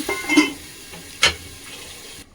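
Tomatoes sautéed and stirred in a pan, with a soft sizzle under two brief scraping stirs at close range.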